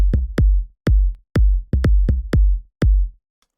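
Eight deep, punchy ghost kick drum hits from a spongy Afro Tech kick, tuned to act as a tom, thump in a syncopated pattern, loud and dry with short decays and nothing else around them.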